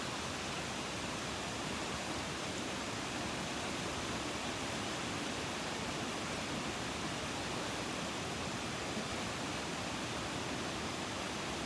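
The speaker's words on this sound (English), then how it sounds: "We just hiked down to the bottom of the waterfall." Waterfall roaring steadily at its base after a hike down in Tampico, Mexico, a dense, unbroken wash of rushing water filling the whole clip with no voices.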